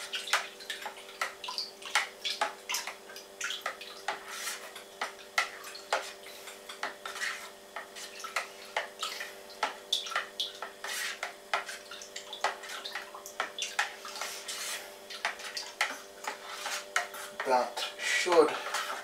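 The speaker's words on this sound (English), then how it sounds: "just going to give this a quick stir, a quick mix around, just to make sure that that dextrose is" A spoon stirs apple cider and dextrose in a homebrew vessel with rapid, irregular clinks and sloshing, close and fairly steady, ending with a brief splashy swirl.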